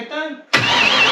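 A turbocharged LS engine in a 1954 Chevy cranks briefly, then catches and fires into a loud, steady idle up close.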